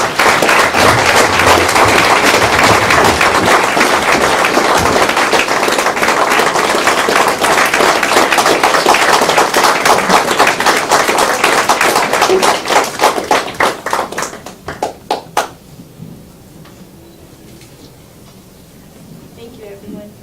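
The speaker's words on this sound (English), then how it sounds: "If we could just get one more round of applause for everyone, all of our veterans" Dinner crowd at the Saranac Freedom Club NCHF dinner honoring veterans gives loud, sustained applause that thins to a few scattered claps and fades into quiet room tone near the end.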